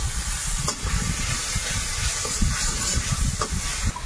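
Ground spice powders—turmeric, chili, coriander and cumin—hitting hot oil in a cooking pan, giving a steady close sizzling hiss with a few faint clinks and no talk.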